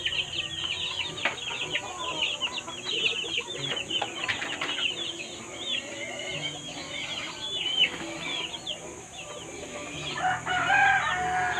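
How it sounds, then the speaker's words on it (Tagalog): Shamo rooster and backyard fighting chickens, with repeated crowing and clucking calls overlapping at moderate distance above a low outdoor hum. "Ito si shamo rooster."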